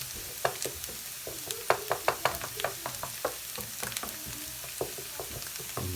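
Chicken curry sizzles and fries in a pan with cream rice dish ingredients, a steady close crackle broken by frequent sharp stirring clicks and scrapes, no talk over it.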